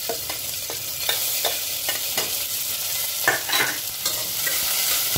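Sliced onion frying in hot oil with masala and being stirred, a steady loud sizzle broken by repeated spatula scrapes against the pan, with no talking.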